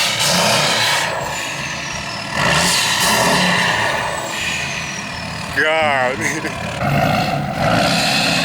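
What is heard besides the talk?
diesel pickup truck engine revving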